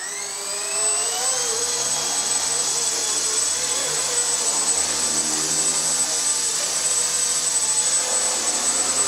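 A small ESKY F300BL RC helicopter flies nearby, its rotor and motor giving a steady high whine with shifting tones as it hovers, loud and continuous with no talk.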